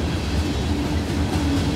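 Loud, steady rumble and rolling clatter of a freight train on Norfolk Southern track, with WFRX leased locomotive power and hopper cars passing close by, continuous with no talk.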